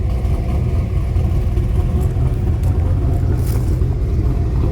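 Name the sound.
1996 Camaro with cammed LT1 engine driving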